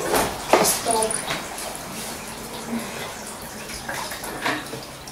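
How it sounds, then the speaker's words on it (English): Spiced stock for Atama soup is sieved and poured into a pot, giving close splashing and liquid trickling with light clatter, under occasional speech. "To sieve it into the stock."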